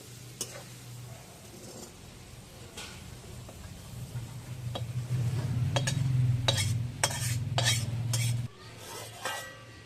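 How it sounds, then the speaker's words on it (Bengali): Spice powder being stirred into a chicken mixture, with a utensil scraping and clinking against the pot in a steady run of strokes that grows louder partway through, then stops. No one speaks. "মশলার গুঁড়াটা দিয়ে একটুকু নেড়ে চেড়ে মিশিয়ে দিচ্ছি"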